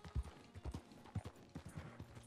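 Horse hooves clip-clop in the video game Red Dead Redemption 2 Online, a steady rhythmic series of close thuds over a soft ambient background.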